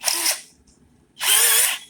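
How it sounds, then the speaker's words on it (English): A power drill fitted with a pad buffer whirs in two short bursts with a brief pause between, close and loud. "we're going to take our little pad buffer tool here and we're going to stick it in our drill"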